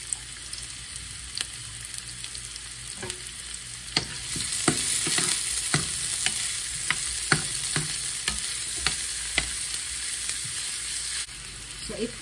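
Onion sautéing in a hot pan for spaghetti with grated carrots, a steady close sizzle broken by repeated scraping strokes of a utensil stirring it.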